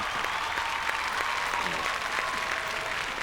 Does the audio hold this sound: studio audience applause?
yes